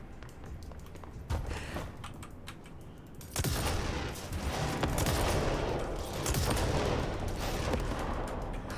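Gunfire from a weapon in the video game Control rings out in a large open room, bursts of rapid shots starting around the first second and growing into sustained loud volleys with no talking.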